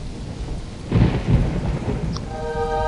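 A thunderstorm with steady heavy rain from the video game Black and White, a low rumble of thunder swelling midway over the constant hiss of rainfall, loud and continuous, with a brief tonal game chime near the end.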